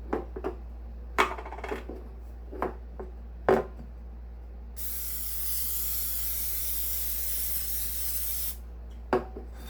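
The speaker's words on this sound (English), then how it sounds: "you always want to spray it to make sure it doesn't stick" Cooking spray hissing onto baking pans for pumpkin bread: several short sharp bursts with light pan clatter, then one long steady spray of about four seconds, and a final short burst, close and clear with no talk.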